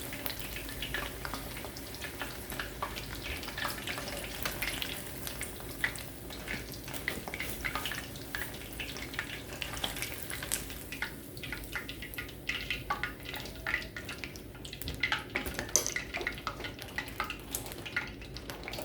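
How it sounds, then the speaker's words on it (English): Pieces of battered chicken for General Tso's chicken shallow-fry lightly in a pan, producing a continuous fine crackle and spatter that stays fairly quiet throughout. "you don't want a deep fry, you just want a light fry"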